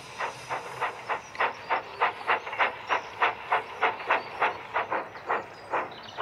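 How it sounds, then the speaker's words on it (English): Rhythmic bursts of steam hiss in a steady, even chuff, about three per second, from a nearby engine running without any voices. "Toby's only a steam tram, Gordon huffed."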